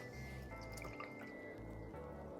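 Water drips while an aquarium plant is rinsed, soft dripping and trickling heard faintly against a steady low hum.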